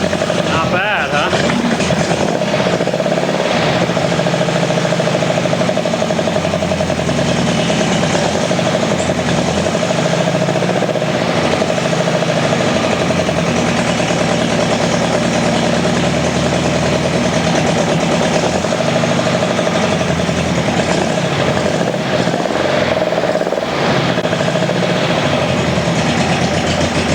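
A Porsche 356 engine fitted with Weber carburetors and a .050 distributor idles steadily on a test stand, a loud, even mechanical drone with a buzzy rasp that holds unchanged throughout.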